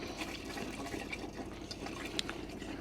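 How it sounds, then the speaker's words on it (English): Water spitting and splattering out of a motorhome tap as the fresh water system is drawn through from the boiler and hot tank, a quiet, steady hissing flow broken by small irregular splashes and sputters. "And through the tap, so it will do a bit of spitting and splattering."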